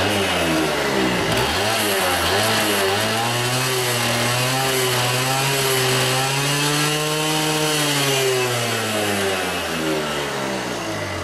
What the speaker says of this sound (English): I have adjusted the idle so it's more of a tap, tap, tap, tap, tap, tap, tap, tap, tap.